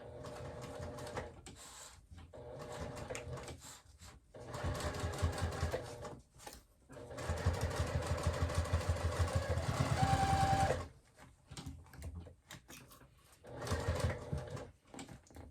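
Sewing machine stitching around thick foam on a zippered clutch purse at a long stitch length, running in several rapid mechanical bursts separated by short pauses, close and steady.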